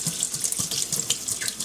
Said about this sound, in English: put them back in our sieve and rinse them again